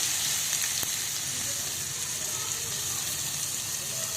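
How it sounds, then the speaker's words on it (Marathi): Mustard seeds, cumin and ground masala paste sizzling in hot oil for a tomato saar, a steady dense frying hiss that stays close and even throughout, with no voices. "आता आपलं तेल कडक तापले आहे, तर त्यामध्ये आपण मोहरी, थोडे जिरे"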